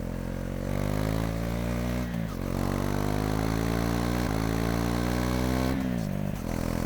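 A motorcycle engine climbs steadily in pitch as the throttle opens on a road ride, with two short dips for gear changes before it winds up again, loud and close with no talking.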